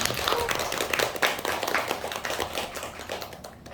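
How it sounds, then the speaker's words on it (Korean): Scattered hand claps from a small group at an author talk in a cafe, fairly close, rising into brief steady applause that thins out and fades after a few seconds. "박수로 시작하겠습니다."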